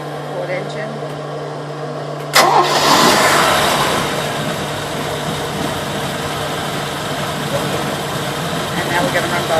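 A boat's port engine fires up abruptly after a quiet stretch, surging briefly before dropping into an even, droning idle alongside the other engine already running.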